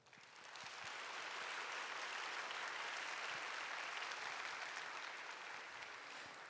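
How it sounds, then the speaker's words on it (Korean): Church congregation at a young adults' worship service applauding in blessing, a dense, even wash of clapping that swells in quickly and holds steady, fairly soft and distant, with no voices over it. "박수로 축복해 주시길 바랍니다"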